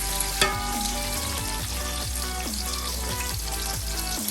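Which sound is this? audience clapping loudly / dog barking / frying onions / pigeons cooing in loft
frying onions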